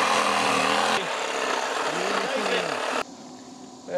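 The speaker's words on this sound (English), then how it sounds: "we're going to take our sawzall and cut this first" Sawzall reciprocating saw cutting along a pig carcass spine during butchering, a loud rasping buzz with shifting pitch that abruptly stops near the end, leaving quiet room tone.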